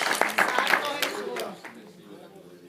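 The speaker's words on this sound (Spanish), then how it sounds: "Un aplauso fuerte a Dios que vive" A church congregation at an apostolic conference in Lancaster, Pennsylvania breaks into brief applause and cheering that fades quickly, with voices mixed into the clapping.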